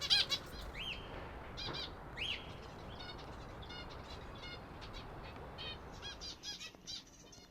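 Many small finches chirp and squawk softly together, a busy layered chatter with occasional wing flutters over a steady hiss, as they wait for breakfast.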